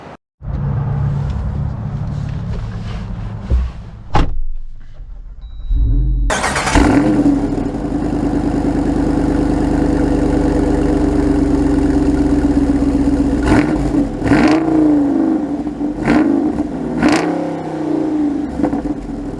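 AEV Jeep Wrangler 392 Special Edition V8 firing up after a brief crank, then settling into a loud, deep idle with several sharp throttle blips, heard close and alone.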